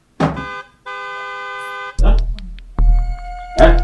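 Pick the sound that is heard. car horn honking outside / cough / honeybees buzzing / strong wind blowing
car horn honking outside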